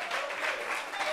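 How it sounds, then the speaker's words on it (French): Brief burst of audience applause at a gathering in Réunion where a custom cake maker presents her work, a steady wash of clapping hands filling the whole moment. "Vraiment, applaudissements."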